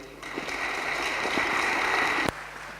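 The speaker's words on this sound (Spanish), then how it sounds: "Un aplauso para él, por favor." An audience at a scientific talk applauds to welcome a speaker, a steady wash of clapping from a room full of people that ends with a sharp bump near the close.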